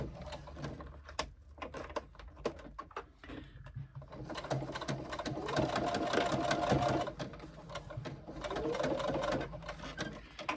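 A sewing machine stitches along backpack straps in bursts, its rapid mechanical whir starting and stopping with brief pauses between runs, close and clear with no talking.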